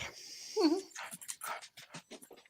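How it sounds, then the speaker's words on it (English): A dog gives one short, rising whimper, then pants in quick, breathy bursts close to the listener, at moderate volume with no voices. "Don't you start barking because you can hear another dog."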